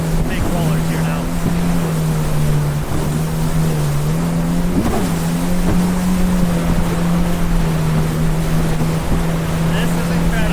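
A 2024 Yamaha VX Cruiser HO personal watercraft rides over big ocean rollers off Sanibel Island, Florida, its engine a loud, steady close-up drone with rushing wind and water throughout.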